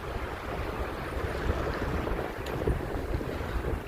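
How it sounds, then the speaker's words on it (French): A warm, whipping sea breeze blows at the seaside, a steady, full whooshing roar close to the microphone with no voices. "le vent il fouette, mais heureusement c'est un vent frais"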